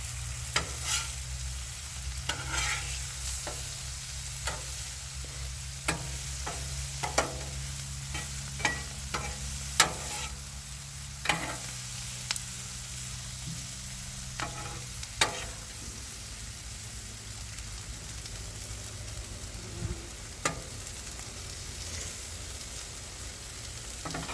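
Beef tips sizzle steadily on a Blackstone griddle while a spatula stirs and scrapes them, with repeated sharp metal clicks over a constant hiss, close and without talk.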